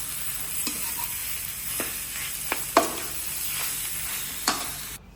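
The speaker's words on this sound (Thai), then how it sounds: "พอพริกลาบเริ่มหอมแล้วนะครับ ให้ไส้หมูลงไป 400 กรัม เต้นคลุกเคล้าเข้าได้เลยครับ" Minced pork, 400 grams, is stir-fried with northern Thai larb chili paste in a pan, giving a steady close sizzle broken by several sharp scraping strokes of the spatula. No voices are heard.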